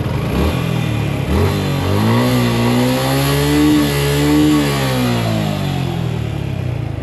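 Suzuki Gixxer fuel-injected motorcycle engine revving up and settling back, a steady close idle rising into a sustained higher-pitched rev and falling again, with no talk.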